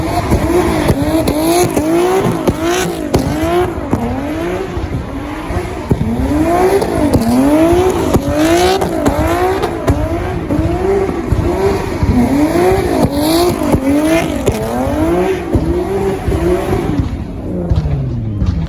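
Nissan 370Z Nismo from 2015, with its 3.7-liter V6, heard as an engine sound in the Need for Speed racing game. It revs loud and close in repeated rising sweeps through gear shifts, with occasional tire squeal, and there is no talk.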